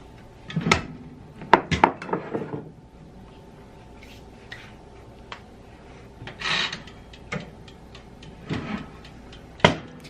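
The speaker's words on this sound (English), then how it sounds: "I'm just gonna put this in my oven." Bread for avocado toast being put into a home oven, with scattered close rubbing, scraping and clattering sounds of a rack and tray, some sharp knocks, no talking.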